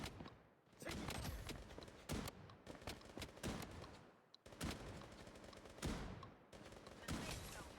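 Video game gunfire: loud, dense bursts of rapid shots roll almost continuously, broken by brief lulls.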